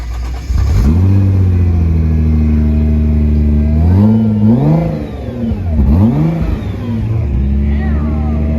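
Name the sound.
Nissan GTR starting up and revving with stock exhaust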